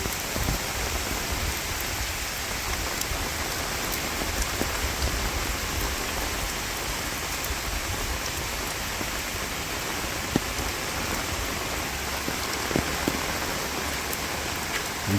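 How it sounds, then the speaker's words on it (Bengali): Steady rain pours down over a village, a dense, even hiss of drops striking surfaces close by, continuous and unbroken with no voices. "বৃষ্টি রে বৃষ্টি,"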